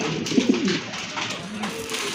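A large male pigeon coos close by in a loft, giving a couple of deep, throaty rolling calls over faint background noise.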